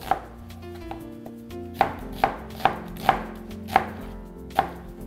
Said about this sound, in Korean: 양파는 반을 잘라서 한 1cm 정도로 두께로